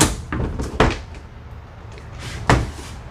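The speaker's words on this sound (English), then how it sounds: "soft closing drawers" Soft-closing drawers and cabinets inside a Columbus 384RKH fifth wheel RV, with several muffled thuds and one firmer close near the end, fairly close and without speech.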